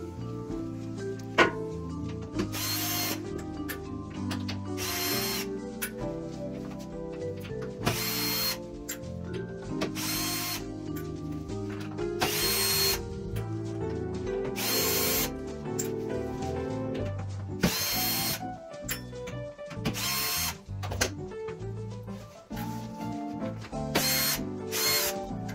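Cordless power screwdriver taking screws out of the panels of an AEG tumble dryer during a belt replacement: repeated short, loud whirring bursts, about a dozen spaced a second or two apart, with clicks and handling noises between them.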